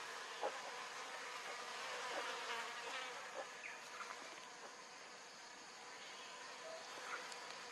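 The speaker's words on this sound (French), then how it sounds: "Désormais, les guêpes sans raison sont indifférentes à sa présence." Wasps hum softly around a carton ant nest in the French Guiana forest, a faint, steady insect drone with brief louder passes as individual wasps fly close.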